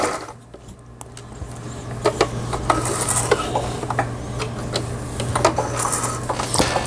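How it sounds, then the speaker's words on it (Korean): An Elna 1010 household sewing machine under repair stitches stretchy knit fabric and skips stitches, producing a close, irregular metallic clatter of taps and clicks over a steady low motor hum, with no one talking. "지금 니트 옷감에 박음질 됐는데 여기 일부분은 이렇게 박히고 또 건너뛰고 막 엉망이 되네요"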